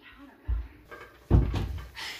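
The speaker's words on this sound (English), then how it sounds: "Let's open that door." A door opens in the horror video game Bendy and the Ink Machine, with two heavy thuds and a creaking swing, close and fairly loud.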